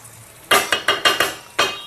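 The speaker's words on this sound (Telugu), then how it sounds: "ఇలా కలుపుకుంటే ముక్కలో కారం నూనె మొత్తం అంతా కలుపుతుంది అనమాట" Fish pieces tossed with chili powder and oil in a metal pot, giving about six sharp clanking stir strokes in quick succession, close and loud after a brief quiet start.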